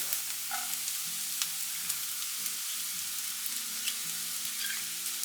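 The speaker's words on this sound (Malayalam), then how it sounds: "ഇതൊന്ന് വഴറ്റി കൊടുക്കാം. സവാള ഒന്ന് വാടി വന്നിട്ടുണ്ട്." Onions and spring onion sautéing in a pan for an egg stir fry, a soft continuous sizzle with a low steady hum underneath and occasional faint clicks, no voices.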